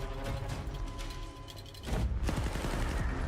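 Bursts of rapid gunfire and crashing impacts from a Call of Duty Black Ops 6 trailer, a dense clattering fusillade that grows louder and harsher in the second half.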